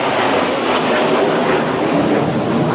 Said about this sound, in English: That was a jet of some sort